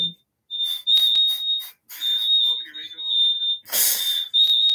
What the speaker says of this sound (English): this is a smoke detector